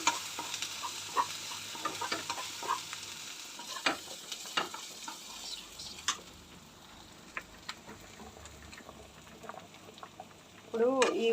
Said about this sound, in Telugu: ఈ అల్లం వెల్లుల్లి ఫ్లేవర్ మంచి స్మెల్ వచ్చే వరకు ఫ్రై చేయాలి